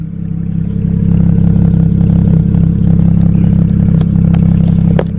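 A BMW 335i fitted with a catless downpipe runs close by with a deep, loud, rumbling engine note, steady with a slight rise, plus a few sharp clicks and clatters near the end.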